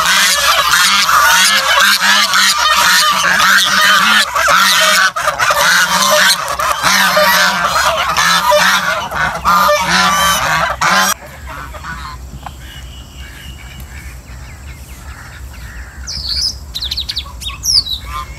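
Small white waterfowl in a park pond honk and squawk loudly and continuously, many calls overlapping close by, then quieten to scattered softer calls and chirps.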